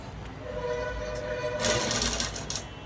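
A sewing machine stitches fabric with a steady, close mechanical whir and hum that grows a little louder and brighter toward the end, with no speech.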